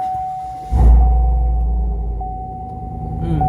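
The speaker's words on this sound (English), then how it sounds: "So, I'm going to start the truck up." A 2019-2020 Chevy Silverado truck engine cranks and fires up with a sudden loud low rumble, then settles into a steady deep exhaust idle that swells slightly toward the end, with no talking.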